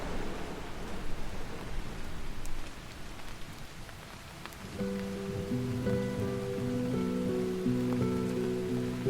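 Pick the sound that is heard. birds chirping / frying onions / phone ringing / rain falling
rain falling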